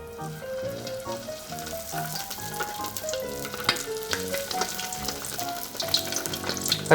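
Hot oil sizzles and crackles steadily as snakeskin gourami fish fry over low heat, with a melodic music track playing over it throughout.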